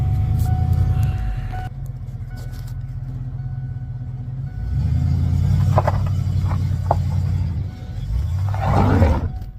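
A 1966 Ford Mustang engine rumbles loud and low as the car is maneuvered, its note surging and easing in several throttle swells with no talk.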